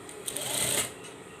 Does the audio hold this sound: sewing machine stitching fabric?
yes